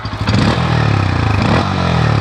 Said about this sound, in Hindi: N160 का आवाज़ पहले सुना देता हूँ कि क्या कुछ आवाज़ आ रही है बाइक में